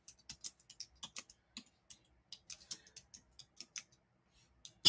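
Rapid, irregular clicking of keys on a keyboard during typing, close and fairly crisp, arriving in short bursts with brief pauses and no talking.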